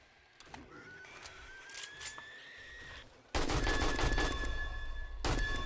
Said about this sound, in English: That noise you hear, by the way, everybody, is when it's shooting through the zombies and it's hitting the stuff behind it.